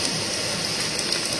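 Steady, dense rain falls on stage during a one-act play in a theatre festival final, a continuous hiss without any voices.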